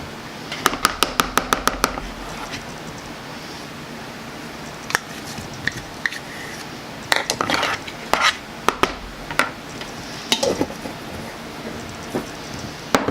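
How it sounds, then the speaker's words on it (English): Peanut butter being scooped out and put into a bowl for a fat bomb recipe, a series of close, sharp clinks and taps of a utensil against a jar and bowl, some in quick bursts, over quiet room noise. "I'm actually just going to use peanut butter. And just put it into the bowl."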